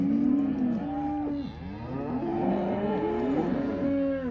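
A cow moos repeatedly in long, drawn-out bellows that rise and fall in pitch, loud and close with no pauses in between, and no one speaks.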